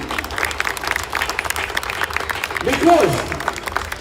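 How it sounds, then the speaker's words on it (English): A crowd claps at an outdoor flag raising ceremony in Paterson, New Jersey, steady scattered applause at moderate distance, swelling slightly near the end, with a brief voice or whistle-like cry cutting through. "give them a round of applause very strongly"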